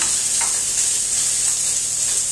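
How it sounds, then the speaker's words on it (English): A hot pan sizzles and hisses loudly and continuously as liquid goes in to deglaze it for a Guinness steak pie, with a few faint clinks of stirring. "I'm going to deglaze my pan."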